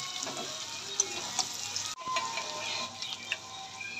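Pota kaleji (goat offal) frying with turmeric in a pan, giving a steady close sizzle with scattered small pops and ticks throughout, briefly dipping near the middle before resuming.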